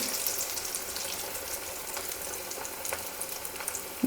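Large moong dal masala vadas deep fry in hot oil on a medium flame, giving a steady, fairly faint bubbling sizzle with no voices.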